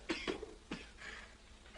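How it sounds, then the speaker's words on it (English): A man in a 1962 film drama coughs in a few rough, separate bursts, close and fairly quiet, with pauses between them, before a louder sound breaks in at the end. "Stop coughing, lad."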